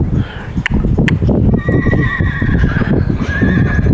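A nervous rescue mare whinnies loudly and close, a long shrill neigh with wavering tones rising over steady background noise, with a few hoof knocks early on.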